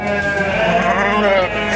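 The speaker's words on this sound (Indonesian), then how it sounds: "Ini kambing Garutnya." Garut goats on an Indonesian farm bleat loudly and continuously at close range, a wavering, quavering call that fills the short moment.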